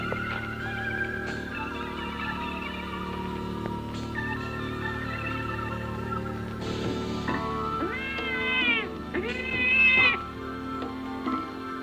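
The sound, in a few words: cat meowing in a film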